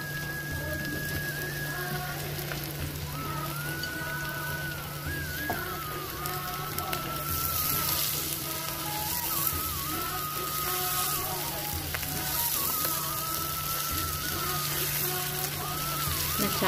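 Capsicum fries in a pan with ginger and turmeric, giving a steady, close hiss and crackle under someone talking, with a low hum throughout.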